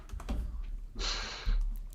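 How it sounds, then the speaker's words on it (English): A short burst of quiet keyboard clicks followed by a brief hissing press, close by, with no speech. "You hear me typing?"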